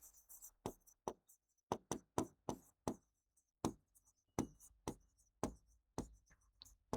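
Chalk or pen strikes on a board as someone writes by hand during a Class 7 math lesson on similar triangles: quiet, close, irregular taps and short strokes in bursts, with no talk over them.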